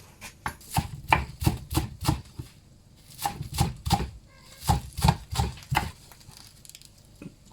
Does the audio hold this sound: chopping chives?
yes